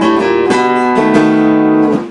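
Guitar plays a two-bar turnaround at the end of a 12-bar shuffle blues, with a few clear note attacks ringing into each other, close and alone.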